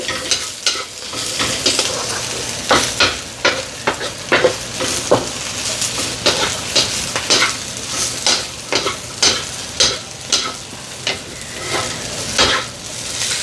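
Ingredients saute in a hot pan under a steady sizzle, while a spoon or spatula scrapes and knocks against the metal in a regular stirring rhythm, about one stroke every half second, close and clear with no speech.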